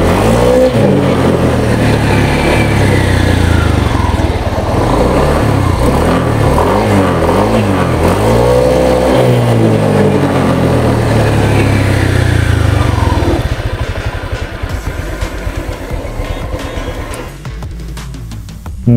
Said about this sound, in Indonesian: Gua tahu gua mau coba gua gaspol.